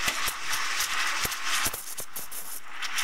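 A close, steady hiss of a coffee machine's steam wand frothing milk in a jug, with a soft bubbling texture and a few clicks and taps.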